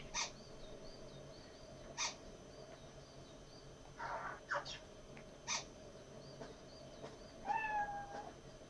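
Several short cat meows from the video game Lost Odyssey, spaced a second or two apart over a steady ambient game background, with a brief bird-like chirp near the end.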